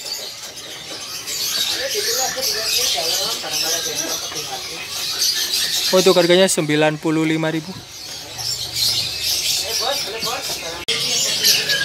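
A male jongkangan songbird gives a short run of clear, repeated warbling notes from its cage in a busy bird kiosk, loud and close, with someone speaking before and after and steady shop chatter and other birds behind.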